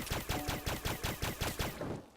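Rapid gunfire from a weapon in the Starbound video game, shooting at pudding slime creatures: about eight evenly spaced, punchy shots in a quick automatic burst lasting under two seconds, fairly loud with no talk.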